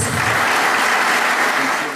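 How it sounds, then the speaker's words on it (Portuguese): Audience clapping at an honorary citizenship ceremony, a loud, dense burst of applause filling the whole moment with no break, close and full. "Vamos receber o professor aplaudindo a Jesus?"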